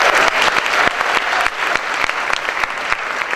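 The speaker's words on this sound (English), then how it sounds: "I'd like for everyone here to give all of our parents here a round of applause" Loud, steady audience applause for parents at a college commitment ceremony, dense clapping with sharp individual claps standing out throughout.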